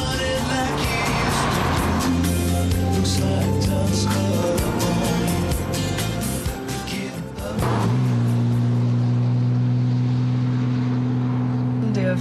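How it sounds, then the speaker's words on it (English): A classic Jaguar E-Type sports car drives with a steady, droning engine hum that stays loud throughout, dips briefly midway, then settles into an even tone. "This iconic vehicle redefined the idea of a sports car, far outshining its rivals"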